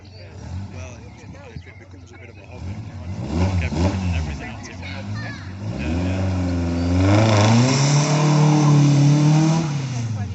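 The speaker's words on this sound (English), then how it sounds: "And departing now, we have the Volkswagen Golf GTI." A Volkswagen Golf GTI pulls away from a car meet at a pub, its engine revving up and climbing in pitch as it accelerates, with a voice speaking over it.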